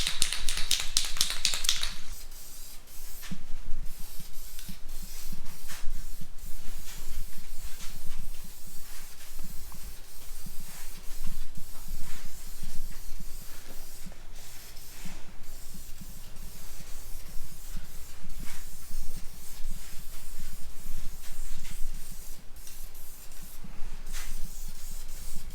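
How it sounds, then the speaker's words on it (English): Spray can laying clear coat onto a Honda CR-V RD1 grille, a steady close hiss running continuously through the whole stretch with faint taps and rustles, no talking. "Alright, time for the clear coat."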